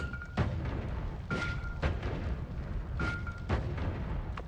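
Repeated booming blasts from the game Noita, several sharp broadband bursts at roughly one-second intervals over a dense rumbling background, loud and close.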